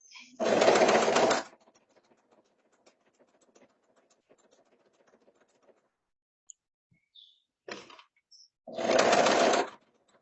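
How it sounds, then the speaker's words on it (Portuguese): A sewing machine stitches a seam on table linen in two short, loud mechanical bursts at the start and end, with a brief quieter whir between and near silence otherwise. "sempre usar o pezinho da máquina como direção para que a costura fique bem retinha"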